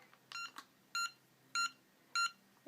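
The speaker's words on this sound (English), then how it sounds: "that beeping signifies that it is now in flip mode" A Cheerson CX-10A micro quadcopter controller gives four short, high electronic beeps at a steady pace, close and fairly quiet, signalling flip mode.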